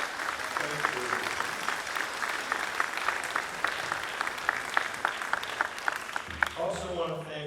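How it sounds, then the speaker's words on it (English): An audience at a spring band concert applauds parent volunteers with dense, steady clapping throughout, a few sharper claps standing out, and voices emerging as the applause ends. "Can we give them a big round of applause?"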